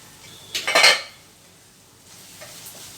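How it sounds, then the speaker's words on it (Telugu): A metal lid set onto a cooking pot of simmering greens and dal gives a short clattering rattle of a few quick clanks, near and loud, followed by faint quiet. "ఇంకా మూత పెట్టేసుకుందాం మూత పెట్టి బాగా మగ్గనిద్దాం"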